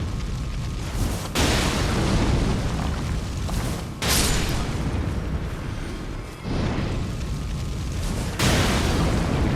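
Explosions in the video game Elden Ring: several heavy booming blasts, each a sudden loud burst followed by a rumbling decay, spaced a few seconds apart.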